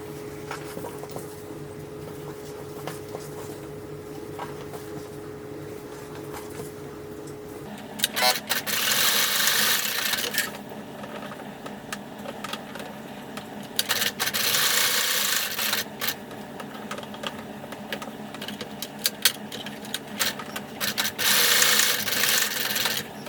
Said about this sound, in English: we are going to sew across the top